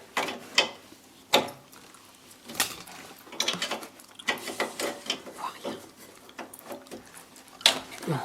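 Metal hex key turning and loosening front shock absorber bolts, heard as scattered clicks, ratcheting taps and sharp knocks at close range in a quiet workshop, with a few louder metallic hits.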